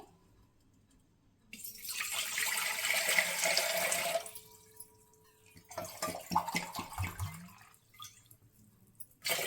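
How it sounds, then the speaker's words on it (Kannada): A litre of water is poured from a bottle into a vessel while making panaka, a bursting, splashing stream that runs for a couple of seconds, then gives way to shorter, uneven trickles and drips close by. "ಇವಾಗ ನಾನು ಒಂದು ಬಟ್ಲು ತಗೊಂಡು ಇದಕ್ಕೆ 1 ಲೀಟ್ರ್ ನೀರು ಹಾಕ್ಕೊತಾ ಇದ್ದೀನಿ."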